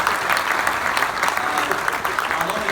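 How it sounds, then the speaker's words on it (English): A crowd applauds a panel of women's soccer figures after a Q&A discussion, producing dense, steady, continuous clapping that holds at an even loudness throughout, with no speech. "Let's give the distinguished panel a nice round of applause."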